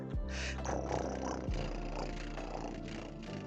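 A voice imitates a cat with a drawn-out, strained meow-like yowl, close and fairly loud, over a low steady background hum.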